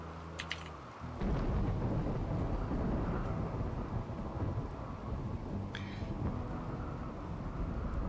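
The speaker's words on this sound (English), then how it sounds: "It's rainy thunderstorm outside, but we can stay inside." Thunderstorm with heavy rain in the colony-survival video game RimWorld, a low thunder rumble rolling in after a brief quiet start, then a dense, steady roar of rain that continues loud and even throughout.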